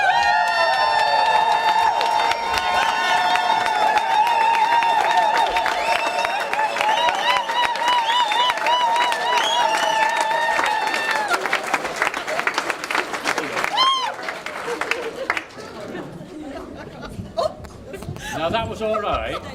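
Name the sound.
wedding guests clapping and cheering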